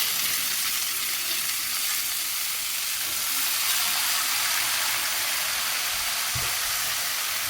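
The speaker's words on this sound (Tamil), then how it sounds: "இப்போ அடுத்து வந்து நம்ம கத்திரிக்காய் போட போகிறோம். வெங்காயம் வந்து கொஞ்சம் வணங்கினா போதும்." Eggplant and onion frying in a pan for a South Indian kathirikai varuval, a steady bright sizzle holding evenly throughout, close and continuous, with one brief low knock near the end and no talking.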